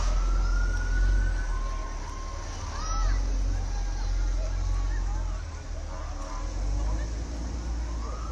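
A fire department rescue truck's siren wails in a Memorial Day parade in St. Marys, Pennsylvania, rising and falling over steady engine rumble and crowd noise, fairly close and sustained.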